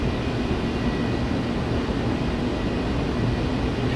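Loud, continuous roar of a Concorde jet with afterburners engaged for takeoff in Flight Simulator X, a broad, steady rushing thunder that stays constant throughout.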